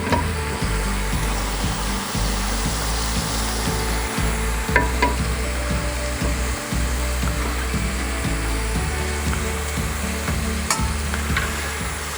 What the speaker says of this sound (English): And then we're going to pop them back into that hot oil.